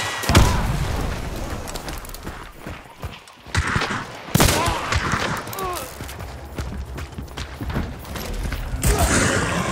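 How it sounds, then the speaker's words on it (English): A grenade explodes in Hunt: Showdown on the Lawson Delta map: sharp blasts and bursts of gunfire crack amid a busy firefight, loud and close, with players talking over the action. "I'm just gonna lob a nade back there."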